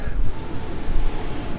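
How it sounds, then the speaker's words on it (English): Wind at Waverley Cemetery on the Sydney coast above the sea, rumbling into the microphone in a continuous low buffeting roar with surf-like noise beneath. "It's a bit windy."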